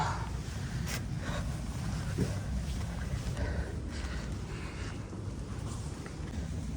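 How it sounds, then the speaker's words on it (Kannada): Steady wind at a Gokarna beach buffets the microphone in a continuous low rumble, with no voices, just a constant blustery roar throughout. "ಬೀಚಾಗ ಆ ಕಡೆಯಿಂದ ಗಾಳಿ ಬೀಸುತ್ತೆ"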